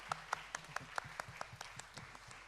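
A church youth congregation welcoming a worship leader claps in a faint, quick, evenly spaced rhythm, about a dozen distinct claps over a couple of seconds with a low murmur beneath.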